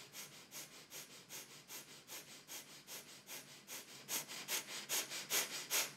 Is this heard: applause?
no